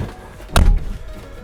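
A Citroen Ami door is pulled shut using a 3D-printed handle, giving a single close, solid slam with a short thud and brief ring-out.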